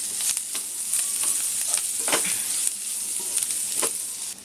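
Green peas frying in a pan for stuffed matar puri, a continuous bright sizzle with bursts of stirring and spatula scrapes, close and fairly loud.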